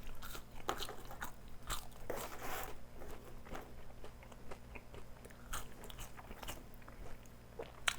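Crunchy seasoned Cajun fries are bitten and chewed close up, with a steady run of crisp crunches and chews over eight seconds and no talking.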